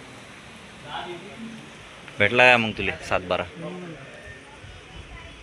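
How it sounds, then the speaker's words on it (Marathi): Rain falls steadily outdoors near a tahsil office as a soft continuous hiss, with people talking briefly over it. "आणि अशाच प्रकारे पाऊस चालू झाला इकडे."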